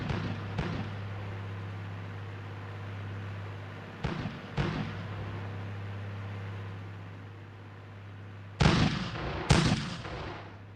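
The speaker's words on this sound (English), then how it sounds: "Mortars are ready. Have them fire off some rounds" Mortar rounds firing in the war game Armored Brigade 2, a few sharp booms spaced across a steady low hum, with two loud close reports near the end.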